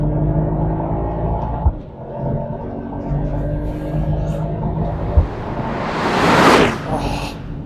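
A powerful sports car, either a Porsche 911 Carrera 4 GTS or a Mercedes-AMG GT 63 S, accelerating hard with a rising engine rumble and a sharp roaring whoosh near the end, heard from inside at close range.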